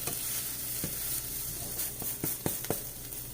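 Brioche pumpkin French toast sizzles in a pan, a steady frying hiss broken by a few sharp scrapes and taps as it is turned over, close and fairly loud with no voices.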